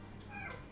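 A brief, soft meow from an orange pet cat rises and falls midway through, faint and close against a low steady background drone.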